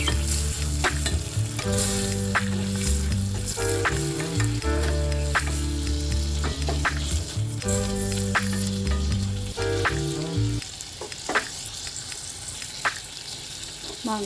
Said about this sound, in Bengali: মাংসটা নেড়ে চেড়ে নিয়েছি